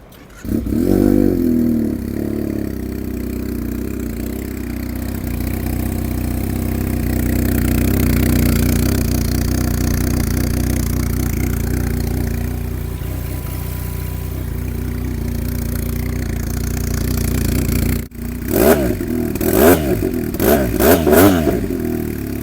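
A Chinese RIDER motorcycle engine, styled after a Ducati Streetfighter, idles with a steady, throaty rumble, then revs in several sharp bursts near the end, close and loud.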